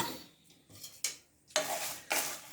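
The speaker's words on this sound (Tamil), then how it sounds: "இதில் பொடிக்கு மிளகாய் வறுமிளகாய் வறுமிளகாய் போட்டு வறுக்கவும்" Dried red chillies dry-roasting in a pan for a herbal postpartum spice powder rattle and scrape in short bursts as they are stirred and tossed, close and fairly soft.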